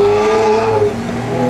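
Nissan GT-R sports car engine revving loudly up close, a strong rising and falling roar over just a second or two.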